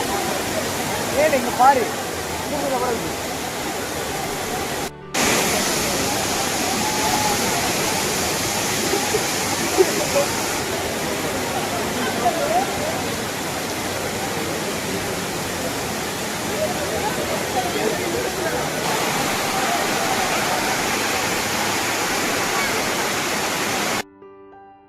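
Waterfall near Courtallam, a steady, loud broadband roar of falling water heard close up throughout, with a brief break early on and a few faint voices talking beneath it.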